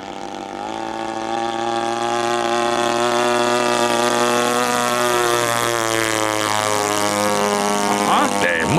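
A giant 2.5 m model airplane's engine, fitted with a new CDI unit, drones steadily and loudly, its pitch holding then shifting slightly, running on without pause.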